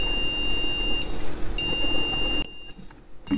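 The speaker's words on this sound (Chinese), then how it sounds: "同时也听到了蜂鸣器的报警声。" An AMD motherboard's buzzer sounds two steady high-pitched alarm tones, each about a second long and separated by a short gap, over a low electrical hum, ending in quieter background noise.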